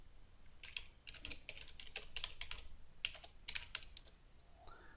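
Rapid typing on a laptop keyboard, close and fairly quiet, with irregular bursts of key clicks and short pauses, no voices.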